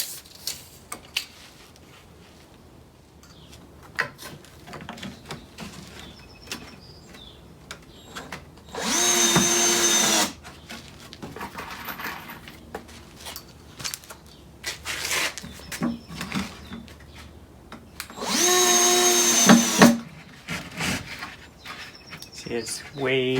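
A power drill drives screws into a scrap lumber telescope shipping box in two loud bursts of whirring, each about a second long, close up, with shuffling, tapping and occasional talk in between.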